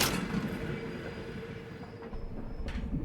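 Train braking in the video game Voidtrain: a low rumbling rolling train with a thin sustained wheel squeal, steady throughout, then a brief brighter hiss near the end as the brakes bite.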